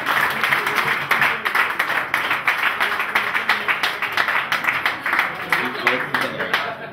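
An open-air festival crowd gives steady, continuous applause with dense rhythmic clapping throughout, fairly close and full, with voices mixed into the noise.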